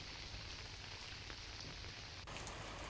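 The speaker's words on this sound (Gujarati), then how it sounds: "વહેલી પરોઢે અહીં વરસાદ ખાબક્યો" Steady early-morning rain pours down in Gujarat, a dense, even hiss of falling drops with no voices.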